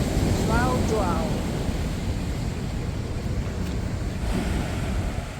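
Ocean surf breaks along an Atlantic shore near a fort, a loud, steady roar of crashing waves and wind buffeting the microphone, with a brief birdlike chirp early on.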